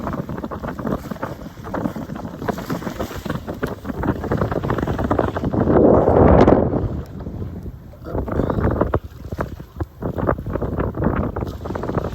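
Steady wind noise buffets the microphone over water rushing past a sailboat hull in light wind of about 9-10 knots, with a swell of sloshing midway; no talking.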